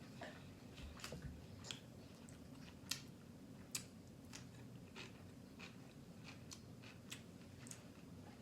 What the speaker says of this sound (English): So you probably can't even hear me chewing, it's just Bear chewing.